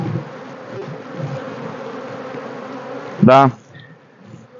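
Honey bees buzzing around an open beehive, a steady close drone of many insects, briefly interrupted by a short spoken word near the end.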